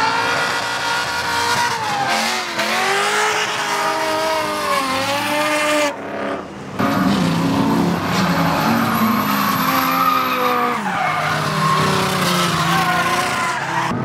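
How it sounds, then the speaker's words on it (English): A car's tires squeal loudly as it skids at a car meet, engine revving and whining in long sweeping arcs, with a brief dip before the squealing resumes. "Oh, whoa. Yeah, skids."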